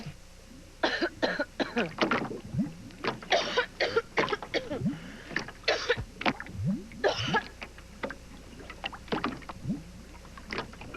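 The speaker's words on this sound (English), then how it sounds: "Cough keeping everyone up?" Repeated coughing fits in a cough medicine TV commercial, harsh bursts scattered across the clip, close and fairly loud with brief pauses between them and no talking.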